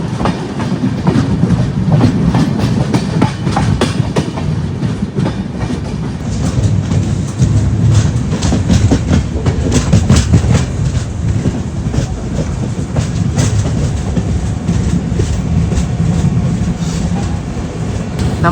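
Barak Brahmaputra Express pulling into Dibrugarh station in East Assam, a loud continuous rumble of wheels with rhythmic clickety-clack over rail joints and occasional squeal, close and steady throughout with no talk.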